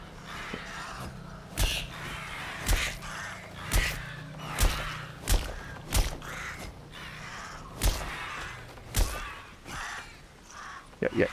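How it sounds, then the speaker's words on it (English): Crows caw repeatedly in the game Atomfall, harsh sharp calls in an irregular rhythm, fairly loud and near, mixed with intermittent talking and background game sounds. "we gotta move, because otherwise we will get dive bombed by crows and or grenades"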